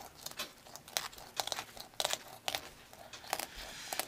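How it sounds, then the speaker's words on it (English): A knife slices along the backbone of a freshly caught pikeminnow, making close, crisp crunching and scraping bursts in an uneven rhythm of strokes. "I'm going to go and kind of just cut right along the backbone here."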